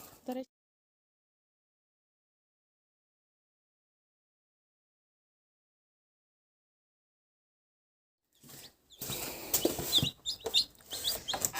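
Chickens cluck in a short burst, then a long silence, followed by a busy, fairly close cluster of clucking and rustling near the end.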